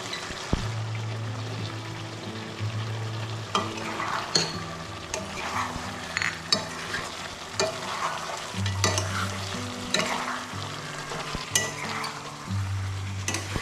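Ground roasted spices being stirred into pepper chicken frying in a pan, a steady sizzle under repeated scraping and clinking of a spoon against the pan, close and continuous with no talking.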